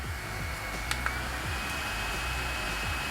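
A bladeless portable neck fan at its top speed setting whirs steadily with a loud, even airy rush, close by, with a faint high whine and a couple of soft clicks.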